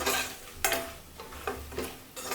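Spoon stirring and light frying in a pan while making pulihora, South Indian tamarind rice, with a few scraping clinks standing out over a soft continuous sizzle, close and fairly quiet, no talk.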